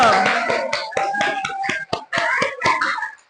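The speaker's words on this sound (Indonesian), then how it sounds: "Tepuk tangan" Students in a junior high school classroom in Palembang clap their hands together in a patterned rhythm, a string of sharp, distinct claps with brief pauses between groups, close and clear before stopping abruptly.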